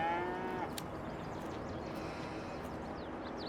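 A cow moos at a big dairy barn on the Alma, Missouri map in Farming Simulator 22, one short low call at the start fading into steady ambient noise and scattered faint clicks.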